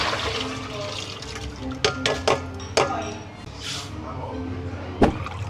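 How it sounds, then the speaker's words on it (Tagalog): Black rice being washed in water for sushi, with splashing and sloshing liquid, a few sharp knocks of the pot or grains against the bowl, and a person talking over it. "so hugasan na natin yung rice."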